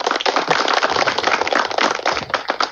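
Audience applause from a gathered crowd, loud, close and dense clapping that keeps going steadily without a break from start to finish.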